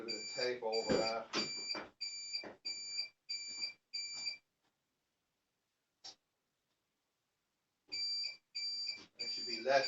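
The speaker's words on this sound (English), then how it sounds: "Now they're working and this stupid thing is beeping away." Regular electronic beeps from a BMW E39 electric conversion's tow bar indicator electrics pulse in a steady rhythm, with a voice talking under the first few, then a silent gap before the beeping resumes.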